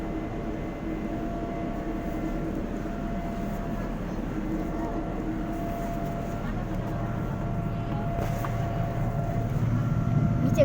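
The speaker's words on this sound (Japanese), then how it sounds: "今離陸しました。" Inside a jet airliner cabin just after takeoff on a flight to Kuala Lumpur, a steady low roar of engines and airflow that swells slightly toward the end, with no voices.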